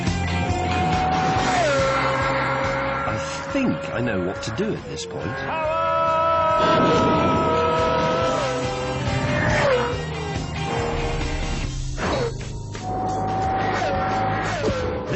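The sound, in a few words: Pagani Zonda F accelerating hard with tire squeal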